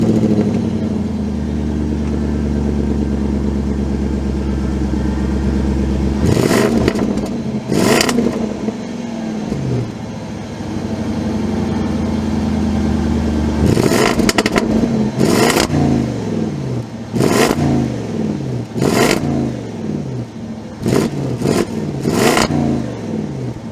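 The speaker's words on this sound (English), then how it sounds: "let's get an exhaust clip" A 2023 Land Rover Defender V8 Carpathian Edition idles, then its exhaust barks through a run of sharp throttle blips, about eight short revs in uneven bursts, loud and close with no talking.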